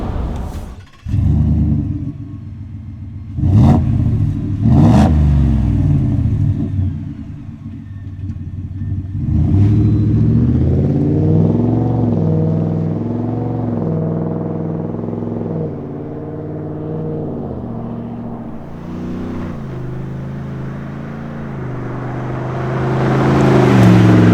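A Ford F-150 pickup with a 5-liter engine and dual exhaust blips sharply a few times, then revs up and down in long, loud, rumbling sweeps, climbing to a roar at the end.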